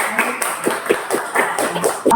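A handful of people clap briefly at a community rubber-processing education event, a quick run of sharp, uneven claps in loose rhythm, close and fairly loud.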